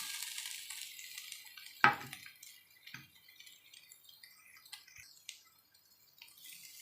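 Boiled potatoes drop into a pan with one sharp metallic clatter, followed by quieter, scattered scrapes and taps of stirring over a low sizzling hiss.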